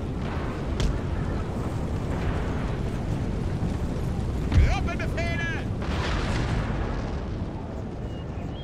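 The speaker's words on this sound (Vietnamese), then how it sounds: "pháo của nó bắn hướng vào núi rồi" Artillery firing in the Napoleon: Total War video game, heard as dull, distant booms within a dense battle din of gunfire and shouting, with a brief whistling sound in the middle.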